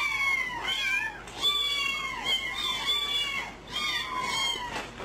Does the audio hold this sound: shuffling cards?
no